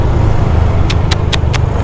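Steady road traffic rumble surrounds a stopped or slow vehicle in an evening jam after an accident, with a few short bright ticking bursts near the end.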